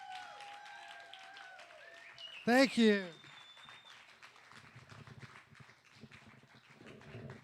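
Audience applause for performers at a magic night in Atlanta swells briefly after someone speaks, then gives way to more talking over light crowd murmur.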